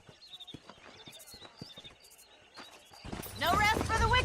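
Horse hooves in the western video game Red Dead Redemption, a series of soft rhythmic clip-clops at a walking pace, followed by a man's speech that takes over toward the end.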